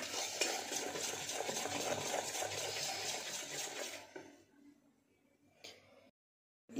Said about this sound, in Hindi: और इसे अच्छी तरीके से मिक्स कर लेंगे।